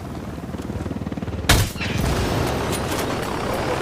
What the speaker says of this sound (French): Un hélico qui arrive.